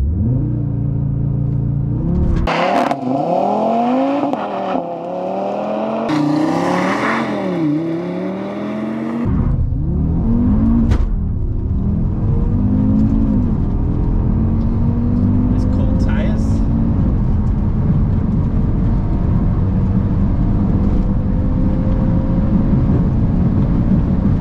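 A stock Audi RS3 on a Racing Line test run revs hard through several gear changes, the engine note climbing and dropping loudly, then settling into a sustained rising roar as it accelerates.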